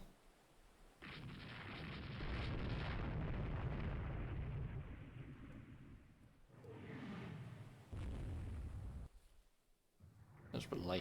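Naval gunfire and shell hits in the warship strategy game Rule the Waves 3: a long, deep rumbling roar of heavy blasts, then a second burst and another short boom, with sharper cracks near the end.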